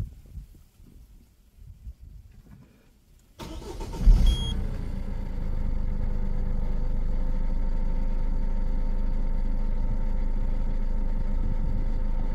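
A Peugeot 1.6 HDI diesel car engine, just fitted with new injector seals, cranks and catches after a quiet stretch, then settles into a steady, loud, close idle with no talk.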